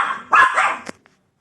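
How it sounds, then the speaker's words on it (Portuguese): A dog gives a single loud, close bark with a short yelping tail, then a faint click follows and the sound drops to silence. "até o cachorro latiu, hein?"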